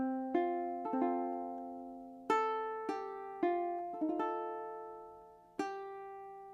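A ukulele plucks the opening notes of Amazing Grace, single ringing notes and a few strums spaced slowly, clear and close with long decays and no voice.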